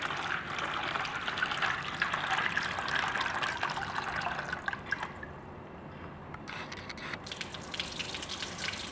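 Soybeans are washed by hand in water to strip their skins for tempeh, giving a steady close sloshing and dripping that runs throughout, with a brief quieter patch before the splashing picks up again.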